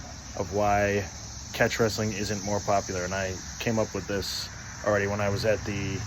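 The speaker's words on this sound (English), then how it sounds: "You might hear some cicadas or some traffic outside" Cicadas buzz outside a garage, a thin, constant high-pitched drone sitting faintly in the background while someone talks throughout.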